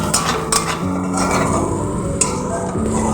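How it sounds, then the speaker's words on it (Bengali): Spice paste for malai kofta curry stir-fried in a pan, with clanking metal spatula strikes against the pan and scraping amid a loud, busy kitchen background. "মশলাটা আমি দিয়ে দিলাম। খুব ভালো করে আমি কষিয়ে নেব।"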